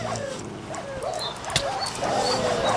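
Dogs yelping in the video game Minecraft, several short, high whimpering yelps in quick succession over a steady background of game noise, with no talking.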